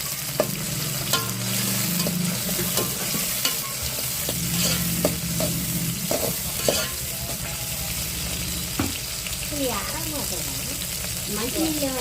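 Tomatoes fry in a pan with a steady sizzle while a utensil scrapes and stirs in repeated close strokes, and a voice is faintly heard near the end.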